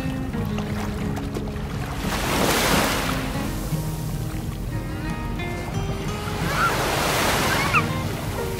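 Ocean surf breaks and washes ashore at sunrise in two swelling rushes of hiss over a constant low roar, with faint background voices.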